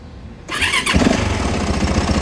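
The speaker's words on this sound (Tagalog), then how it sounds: "pakinggan niyo yung makina oh." A Yamaha WR450F motorcycle engine fires up abruptly and settles into a loud, close, rough running note, the start alone with no voices.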